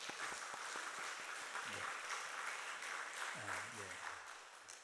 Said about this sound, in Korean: 보통 이럴 때 박수 한번 쳐주시면 열심히